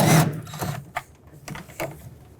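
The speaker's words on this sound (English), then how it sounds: "So I'm going to take a 10mm socket. There's going to be two mounting nuts that hold these brackets onto the firewall." A 10mm socket wrench backs off mounting nuts holding brackets to the firewall of a 2013-2020 Nissan Pathfinder 3.5L V6, giving a few short, close clicks and scrapes spaced apart after a louder opening clatter.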